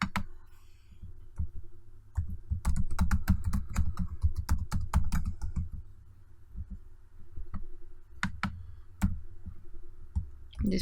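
Keys clatter in bursts of fast typing on a computer keyboard while someone writes Java JSP code, with short pauses between runs of clicks, close and fairly loud.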